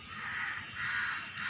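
A crow caws repeatedly in a steady run of harsh calls, fairly close and loud against a faint background, with no talking.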